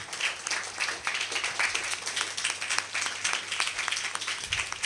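An audience at a temple festival function in Madurai claps in continuous applause, a busy, steady wash of handclaps heard at moderate distance.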